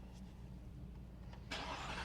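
A 2024 Ford Raptor R truck engine cranks and catches, with a broadband surge of engine noise arriving suddenly near the end after a stretch of low idle-like rumble.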